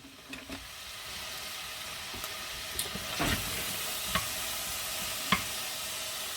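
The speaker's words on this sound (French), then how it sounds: "Donc là, nous mettons nos oignons." Onions fry in a pot for a beef shank and beer stew, giving a steady close sizzle and hiss with a few sharp clinks of a spoon against the pot and no talking.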